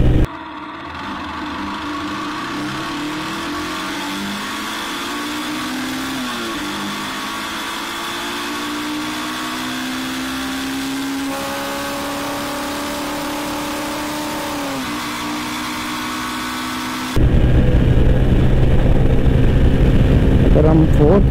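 Engine of a 2021 Yamaha YBZ-DX motorcycle revving hard in fourth gear toward 9,000 RPM during a top speed run, pitch climbing steadily and loud throughout, growing rougher with wind roar near the end.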